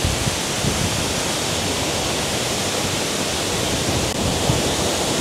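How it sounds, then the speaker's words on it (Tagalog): Kuang Si waterfall in Laos roars in a dense, steady wash of falling and splashing water, loud and close from start to finish with no voices. "Dito lang ako sa may bandang gilid dahil lakas ng talsik ng waterfalls"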